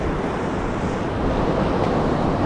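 Ocean surf at Galveston, heard from out past the breaking waves while wading knee-deep, makes a continuous loud broadband wash and rumble, with wind noise on the microphone and no distinct crashes.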